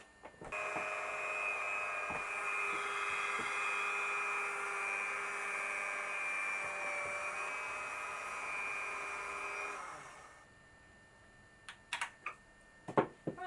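Fabric for curtain swag tails is cut with a steady motorized whine that runs for about ten seconds, then stops, followed by a few light clicks and handling knocks.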